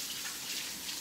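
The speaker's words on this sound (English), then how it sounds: "Let me just rinse my hands." Water from a kitchen tap runs in a steady hiss as hands are rinsed under it, close and continuous for a brief moment.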